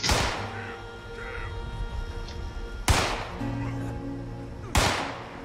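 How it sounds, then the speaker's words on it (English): Gunfire in Fallout 76: three sharp, separate reports spaced a few seconds apart over a steady low game ambience, sounding some distance off. "I hear gunfire"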